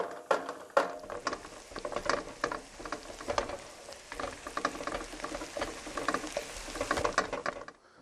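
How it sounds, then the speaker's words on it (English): Shallots sauteing in a hot pan for an onion sauce bound for lobster, a steady crackling sizzle with dense irregular pops and spatters running throughout, fairly close and alone with no talking. "Get them in there, saute those babies a little bit"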